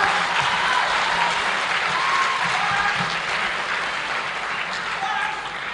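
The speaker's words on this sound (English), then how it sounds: "Let's clap for Sabato." Sustained audience applause fills a hall at the close of an Africa Day lecture, a dense and even wash of clapping with a few voices and cheers mixed in.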